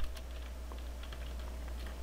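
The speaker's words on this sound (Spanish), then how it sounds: "escribimos la palabra CMD" Quick, light taps on a computer keyboard, typed in short bursts over a steady low hum, close by and with no talking.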